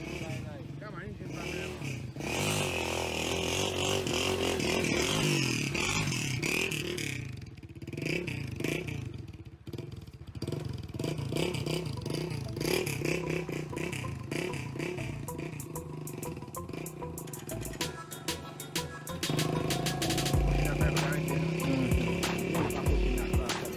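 An old four-wheel-drive truck engine with a crankshaft problem runs and revs in Jamaica. It gives a rough, clattering rumble that rises and falls, with people talking over it much of the time.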